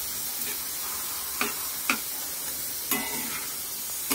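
Prawns stirred through a masala paste frying in a pan give a steady soft sizzle, with a few brief scraping stirs standing out at irregular moments; no one speaks.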